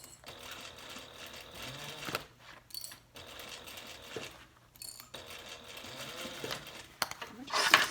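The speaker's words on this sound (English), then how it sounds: "We're just sewing around." A sewing machine stitches the bottom band onto a handbag in short runs of fast, even whirring separated by brief pauses, fairly quiet, with a voice talking softly between bursts.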